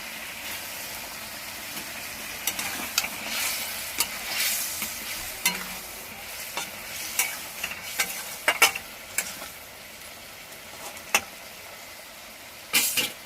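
Rohu fish in poppy seed paste frying in a pan, a steady soft sizzle broken by scraping stirs and light clacks of a spatula, close and unaccompanied by speech.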